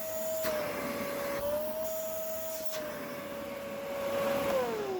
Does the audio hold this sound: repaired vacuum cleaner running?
yes